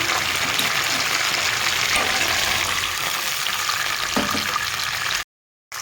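Sauces and water poured into a hot pan of chili cauliflower set off a loud, continuous sizzle and bubbling fry that fills the clip before a brief cut to silence.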